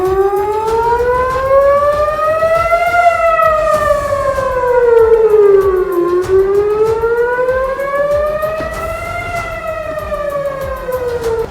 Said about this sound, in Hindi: तभी शहर में लोगों को आगाह करने के लिए हमले के सायरन बजने शुरू हो गए